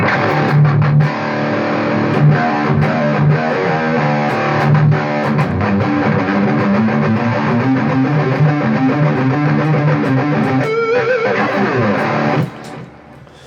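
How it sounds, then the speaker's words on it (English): Electric guitar played through the slow distortion loop of a BOSS IR-200 amp and cab simulator, thick sustained overdriven chords and single notes ringing out, loud and close, with no talking, cutting off sharply near the end. "I just switched the distortion on in loop 2, which is the slow distortion"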